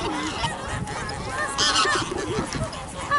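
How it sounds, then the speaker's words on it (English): Waterfowl honk and squawk repeatedly at a city park lake in Brasilia, Brazil, where people are feeding the ducks; the calls overlap at moderate distance over outdoor ambience. "There's people feeding the ducks."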